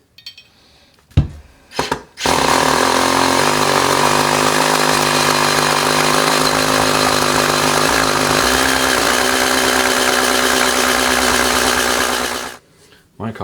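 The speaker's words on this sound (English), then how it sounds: "Now I get to go to the real deal. It's this big, massive 3/4 inch masonry bit." A drill boring into rocky concrete with a big 3/4 inch masonry bit makes a loud, continuous, grinding roar. A few short bursts come first, then a sustained run of about ten seconds that cuts off near the end.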